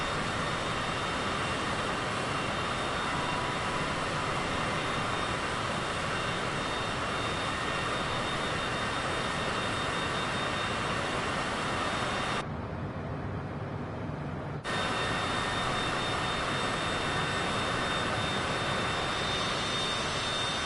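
A jet airliner in Microsoft Flight Simulator 2024 on PS5 gives a loud, steady engine roar during a landing approach with flaps and gear down. The roar drops out for a couple of seconds near the middle, then returns unchanged.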